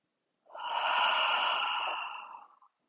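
A person breathes in deeply through the nose and lets it out in a long, sighing exhale during a yoga-style breathing exercise: a single close, airy breath swelling and fading over about two seconds, with no talking.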